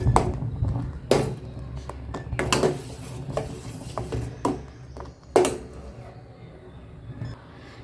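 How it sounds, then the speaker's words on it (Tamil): A spoon stirs milk in a pot on the stove while curd is being prepared, making irregular close scrapes and clinks against the metal, with a few sharper knocks over a low, steady background. "பாலை வந்து நல்லா இப்படி கலக்கி விடுங்க"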